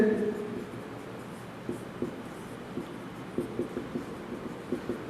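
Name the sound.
writing an equation on a board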